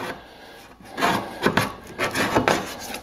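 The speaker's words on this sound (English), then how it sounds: "scraping just one of these off without anything is a pain" Something stuck to a hydroponic bucket is scraped off by hand, giving a series of close, harsh rasping strokes in an uneven rhythm, about five loud scrapes in three seconds.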